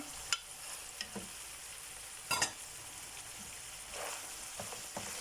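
Onions and peppers sautéing in a pan, a faint, steady sizzle with a few sharp clicks and scrapes of stirring, no talk.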